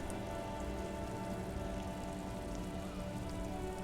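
Steady, even rainfall pattering on a surface in the video game Disco Elysium: Final Cut, constant and unbroken, with a faint low hum underneath.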